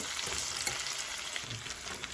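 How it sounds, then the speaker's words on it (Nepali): Onions frying in a pan, a steady close crackling sizzle with faint stirring underneath, continuous throughout and no talk. "प्याज भुट्छु"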